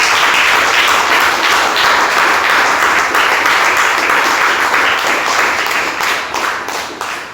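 Loud, dense applause from a church congregation, steady sustained clapping filling the room and tapering slightly toward the end.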